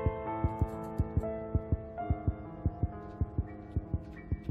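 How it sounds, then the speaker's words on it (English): A steady heartbeat from the horror video game Granny thumps in a regular pulse of about three beats per second, loud and up close, over a sustained eerie tonal drone. "I hate the sound of a heart beating, dude."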